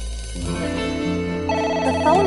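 A telephone rings in a video game, a steady electronic tone that comes in clearly after a moment and holds loud and close, with a brighter chime layered in near the end.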